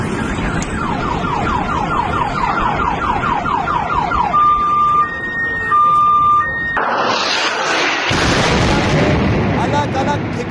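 News footage of a rocket attack on a building during the Russia-Ukraine war. Wailing siren-like tones sound first, then a heavy burst of rumbling, crashing noise takes over and fills the rest.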